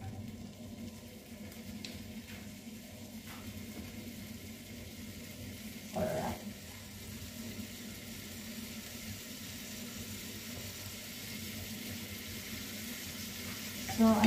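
Pasta carbonara ingredients fry in a pan on a home kitchen stove, a steady close sizzle running throughout with a brief clatter of stirring midway.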